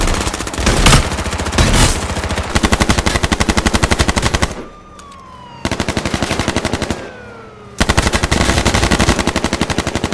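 Rapid automatic gunfire in the video game H1Z1 on PS4, loud bursts of machine-gun fire with a brief lull and descending whistling tones before firing resumes, no talking.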